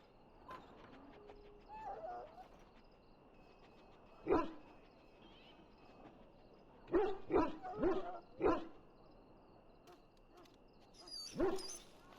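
A dog in the Dragon Age Origins video game barks in scattered sharp bursts, one alone and then a quick cluster of several, over a quiet game ambience.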